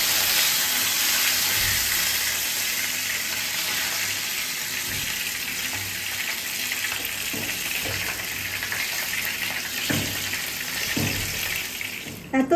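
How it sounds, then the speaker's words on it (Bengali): Oil sizzles and spatters steadily in a pan while Bengali musoor dal paturi fries, a constant hiss with occasional sharper pops near the end. "এত তেল ছিটছে।"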